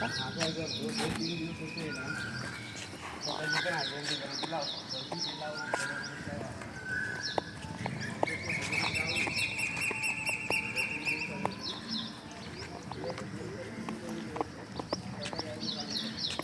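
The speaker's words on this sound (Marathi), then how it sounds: "पाठीमागून येणारा पक्ष्यांचा आवाज आहे" Birds chirp and whistle in short repeated phrases in the background at a crowded bus stop, over a busy crowd murmur and scattered clatter.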